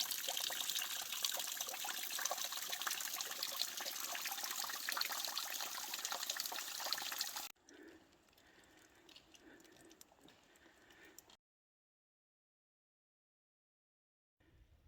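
Stream water trickles and rushes steadily up close for several seconds, then fades to a quieter, distant flow before falling silent.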